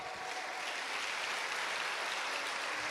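A church congregation claps continuously in praise during a worship service, a dense, even wash of many hands heard at a distance, fairly soft and without any talk.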